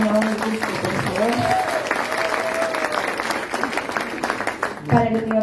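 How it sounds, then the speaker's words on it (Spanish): An audience claps at a university oratory contest in Cusco, a sustained wash of applause with a voice speaking over it near the start and again at the end. "Un aplauso para la Universidad Nacional San Antonio del Cusco, por favor."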